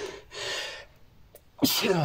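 A single close sneeze bursts out after soft breathy sounds and a pause, in a classroom lesson setting, and a voice follows right into the sneeze's tail.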